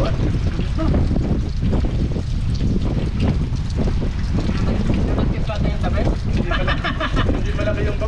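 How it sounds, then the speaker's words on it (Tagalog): Strong wind roars and buffets the microphone nonstop, loud and close, with a voice faintly heard beneath it. "Nalakas ang hangin guys."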